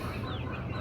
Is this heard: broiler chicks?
yes